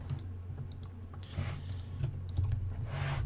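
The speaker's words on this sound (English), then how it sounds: "I'll mute the mic so you don't hear my typing." A live streamer types on a computer keyboard, giving scattered quick clicks and taps at an irregular rhythm, close to the microphone over a low steady hum.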